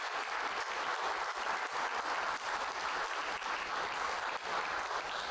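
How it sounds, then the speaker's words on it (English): Sustained audience applause for a speaker at a talk with a Q&A session, dense steady clapping from a large crowd throughout, with no voices breaking through. "let's give Chuck a big round of applause because he's a very busy guy"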